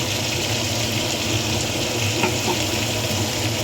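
Chicken fries in a pan with ginger garlic paste for an egg chicken tarka, giving a steady, even hiss and sizzle from start to finish with no talking.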